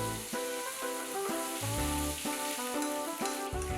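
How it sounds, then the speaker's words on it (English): A sea bass fillet fries in a pan with olive oil and butter, a steady close sizzle that carries on throughout beneath background music. "Oil the pan with olive oil and roast the fillet."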